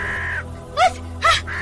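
Crows caw in two loud, harsh calls close by, each short and separated by a brief gap, over a steady low background hum, a dramatized scene of birds gathering at a carcass.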